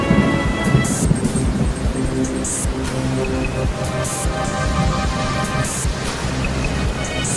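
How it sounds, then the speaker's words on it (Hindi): Steady, dense roar of heavy rain with rumbling thunder rolling underneath, continuous and loud throughout. "तभी तेज बारिश और तूफान आ गया"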